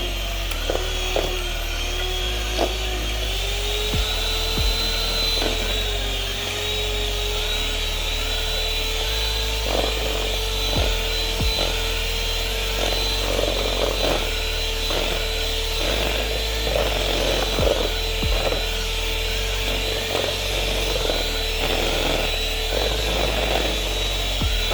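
Electric mixer beating ice box cake batter with milk, a continuous close motor whine with a steady pitch and low hum, broken by clicks and knocks of the beaters against the bowl.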